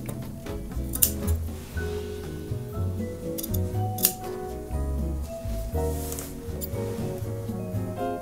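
Scissors snipping through hemp canvas, close and crisp, a run of repeated cuts with small metallic clicks of the blades at an uneven rhythm, no talk.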